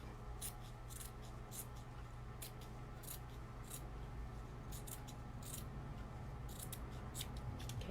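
Scissors snipping through fabric to cut out a circle for a kids' donut pillow, a series of quick crisp cuts in irregular bursts over a low steady background hum, close but quiet.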